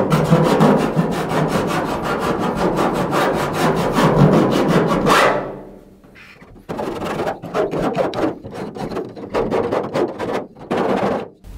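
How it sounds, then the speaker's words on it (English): Rough-edged holes cut into a car bonnet being cleaned up with a tool, a fast, steady rasping buzz of pulsing strokes, then a pause and a further run of choppier grinding bursts, close and loud. "now it's a matter of cleaning them up and taking the sharp edges off"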